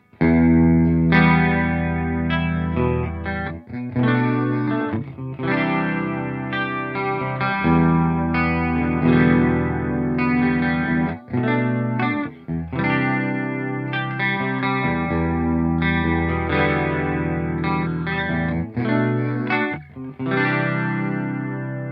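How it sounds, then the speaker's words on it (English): Electric guitar played through the chorus effect of the Primo amp simulator, with sustained, shimmering chords and short melodic phrases, thick and slightly distorted, loud and continuous without speech. "Chorus is really good indeed."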